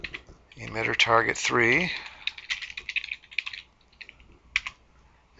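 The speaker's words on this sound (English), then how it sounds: "So I'll hit change and type" Typing on a computer keyboard, a quick run of light key clicks in short bursts, following a stretch of speech at the start.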